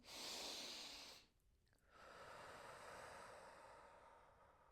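A person breathes in loudly through the nose during a toe-flexing body scan exercise. A long, close, airy inhale is followed by a brief pause and then a softer, sustained breath.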